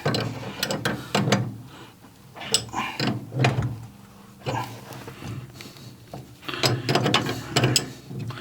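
A ratchet wrench clicks in several short, close bursts of quick pawl ticks, with pauses between turns, while a clogged toilet is being worked on.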